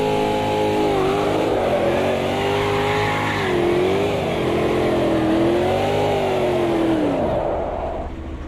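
A race car spinning donuts in the Automobilista 2 racing game, its engine held at high revs in a loud continuous whine that rises and falls as the car slides in circles, then drops away abruptly near the end.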